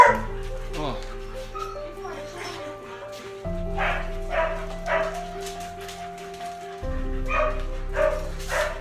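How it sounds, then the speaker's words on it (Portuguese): Many dogs at a dog shelter bark, yip and whimper in overlapping bursts close by, while a person talks over them throughout. "Está chegando cada vez mais cachorro aqui."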